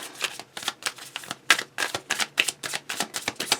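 A deck of oracle cards being shuffled by hand, a quick steady series of crisp papery riffles and slaps, close and clear with no talking.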